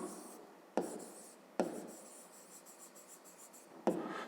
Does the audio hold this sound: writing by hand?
yes